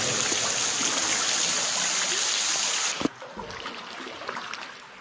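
Water pouring steadily from a cave ceiling like a waterfall, a loud, constant hiss of falling water that cuts off abruptly, leaving quieter drips and splashes.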